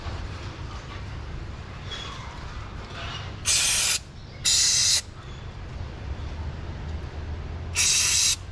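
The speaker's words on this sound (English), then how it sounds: "I might have to spray some brake clean on it." Three loud bursts of penetrating spray hiss onto a car's brake caliper, each about half a second to a second long, close up over a low steady background rumble.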